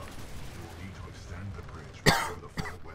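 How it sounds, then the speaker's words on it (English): A single sharp, close cough bursts out, followed by a smaller second cough, during a Titanfall 2 campaign session, with faint game sound underneath. "I coughed, sorry."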